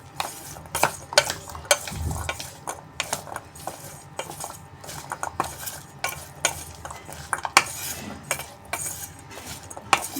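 A metal spoon mixes chole chaat with chutney in a bowl, producing quick repeated clinks and scrapes against the dish in an irregular rhythm, close and clear, with no speech.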